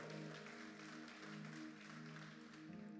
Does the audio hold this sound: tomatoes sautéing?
no